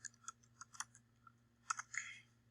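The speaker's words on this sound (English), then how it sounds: "I am going to type in Lincoln" Quiet typing on a computer keyboard, a few scattered clicky keystrokes in short clusters over a faint low hum, with no talk.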